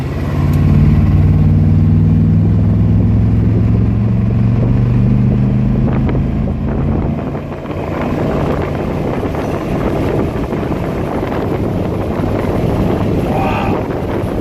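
A 1977 Chevy Silverado K10 engine idles after an oil change and flush, a steady low hum at first that turns into rougher, buffeting noise with wind against the microphone.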